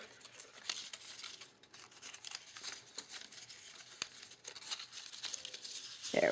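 Glued paper being folded over by hand in a crafting setup, a quiet, continuous run of crinkling and soft tearing-like rustles with faint scrapes, close and alone without speech.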